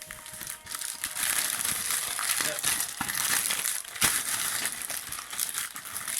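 Plastic and paper packaging on a Warhammer Conquest magazine issue with a paint pot being torn open and unwrapped, close crinkling and crushing that rustles continuously with a few sharper crackles.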